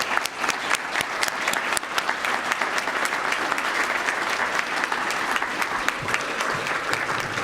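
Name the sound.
applause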